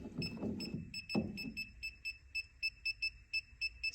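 A Klein circuit breaker finder emits a rapid series of sharp, high electronic beeps in a steady rhythm, with a few low knocks and handling noises early on before the beeping continues alone.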